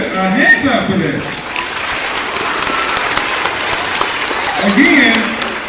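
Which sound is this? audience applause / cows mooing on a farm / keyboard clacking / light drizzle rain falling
audience applause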